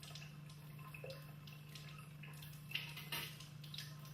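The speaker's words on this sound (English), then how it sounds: "Now he turns on the water tap" Water runs from a tap in a metallographic lab while a freshly etched, polished microsection is rinsed, a soft continuous hiss under a steady hum, with a couple of faint splashes and clinks near the end.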